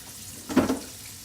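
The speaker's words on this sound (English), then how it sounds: "so I have the water running." Water runs briefly from a faucet into a kitchen sink fitted with a garbage disposal, a short splashing gush of about half a second that rises and fades against a quiet room.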